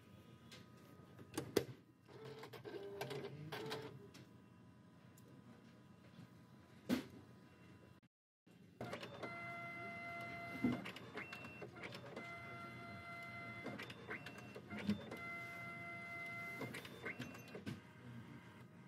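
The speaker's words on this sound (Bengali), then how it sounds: "আমাদের কিন্তু প্রিন্ট হচ্ছে, দেখেন এই যে প্রিন্ট হচ্ছে।" Zebra ZXP Series 3 card printer feeding and printing a card: a quiet, steady mechanical whir with repeated faint clicks and motor steps, a brief pause midway, then continued soft running.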